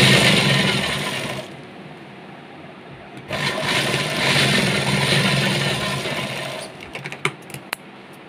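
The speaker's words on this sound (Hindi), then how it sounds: "इस तरीके से सिलाई लगा लेंगे।" A sewing machine runs steadily through fabric for a top, giving a close mechanical whirr that pauses briefly, then resumes and ends with a few sharp clicks.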